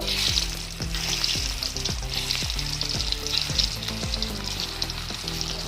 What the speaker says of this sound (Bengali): তেল গরম হয়ে গেছে, এবার কলার বড়াগুলো ভেজে নেব।